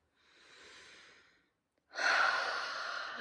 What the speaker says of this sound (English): I invite you to take just deep breaths in and deep breaths